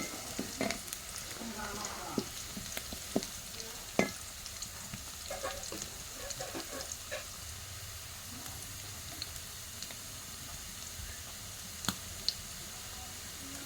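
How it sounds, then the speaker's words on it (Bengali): Chopped onions frying in overly hot oil are stirred, a quiet steady sizzle broken by occasional soft clicks and scrapes of the spoon, fairly faint and close. "পেঁয়াজটা দেওয়ার পর এবার একটু নেড়ে চেড়ে দিব"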